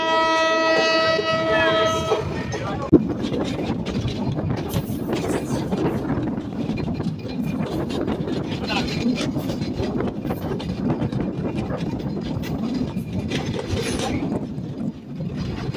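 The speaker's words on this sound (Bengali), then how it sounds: "আমাদের কপোতাক্ষ এক্সপ্রেস ট্রেনটি কিন্তু ছুটে যাবে পোড়াদহ জংশনের উদ্দেশ্যে" Kapotaksha Express passenger train running on rails between Bheramara and Mirpur stations, a steady loud rumble and clatter of wheels throughout, with a brief horn-like tone at the start and no talk.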